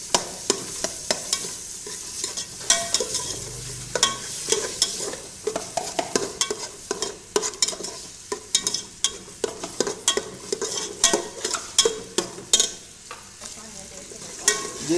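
Masala roasting in ghee for a cauliflower rice dish, stirred in a pan with a rapid, continuous run of spoon scrapes and clinks over a low sizzle, up close and with no voices.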